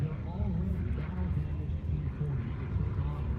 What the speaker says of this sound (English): So back in the sky again, the P-40 Warhawk here at Thunder Over Louisiana.